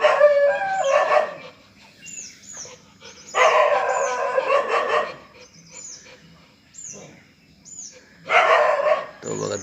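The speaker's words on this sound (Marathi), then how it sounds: "नुसतं भुंकतो आमच्यावरती।" A golden retriever barks in several loud, close bursts separated by quieter gaps, the barks ringing sharp and high-pitched, with occasional faint background chirps and no clear voices.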